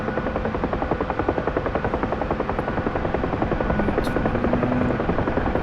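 A helicopter in the DCS flight simulator throttling back to slow while keeping forward momentum, its rotor beating in a steady, dense rhythmic chop that grows slightly louder over the span, continuous with no talk.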